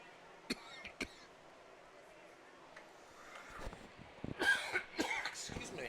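A sports commentator coughs and clears his throat during a live high school football broadcast, a couple of sharp bursts near the microphone with crowd and field noise underneath.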